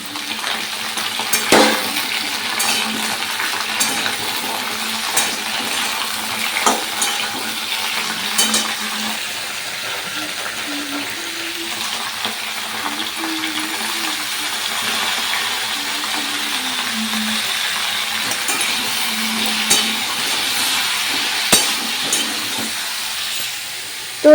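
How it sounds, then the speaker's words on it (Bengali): Eggplant and cauliflower fry in oil over panch phoron spices, giving a steady, dense hiss and sizzle that runs throughout with occasional faint clinks. "এখন বেগুনটা আর ফুলকপিটা ভাজতে দিয়ে দেবো"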